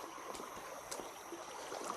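Water trickles and splashes steadily around footsteps wading across a rocky-bottomed creek on a park trail, a close, continuous babble with soft sloshing pulses and no talk.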